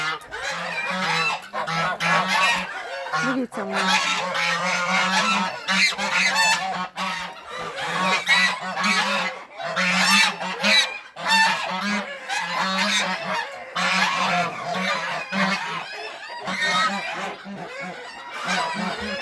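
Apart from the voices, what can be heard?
geese honking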